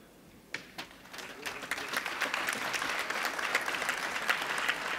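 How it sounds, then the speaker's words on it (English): Audience at a university graduation ceremony applauding council members, clapping that starts sparse after a half-second lull and quickly swells into steady, dense applause from a large crowd, continuing to the end. "and we applaud them."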